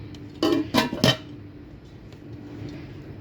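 Shiny metal cooking pots and lids from a discount supermarket range clank together three times in quick succession, close and bright, followed by a low steady room hum.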